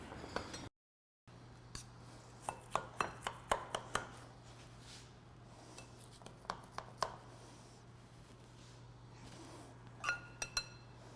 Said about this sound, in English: this will need some chopping